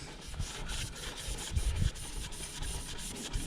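A Scotch-Brite pad with WD rubs the inside of a hydraulic swivel valve from a JLG 600S boom lift, making a close, steady scrubbing with rhythmic back-and-forth strokes and no voices.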